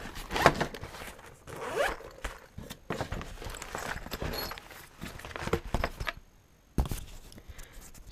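A zipper opens on a soft Browning fish worm binder with big zippers and pulls, a series of close, loud ripping pulls with short pauses between them and a final tug near the end.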